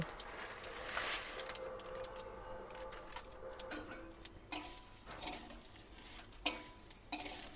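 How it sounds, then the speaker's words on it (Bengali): Semai vermicelli frying in a pan with cardamom and bay leaves while being stirred, for a Bengali Ashtami festive meal: a quiet, steady sizzle with occasional sharper scrapes and clicks of the spoon against the pan. "আমি সিমাই ভাজাটাই এনেছি কিন্তু আর একটু ভেজে নেব"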